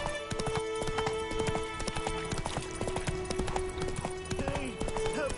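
Horse hooves clip-clop steadily at a gallop in The Witcher 3 video game, a continuous rhythmic beat with faint game ambience underneath.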